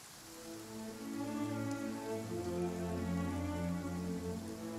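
Steady rain pours throughout in the video game Genshin Impact, a dense wash of drops with a low droning tone underneath, fairly loud and constant with no talking.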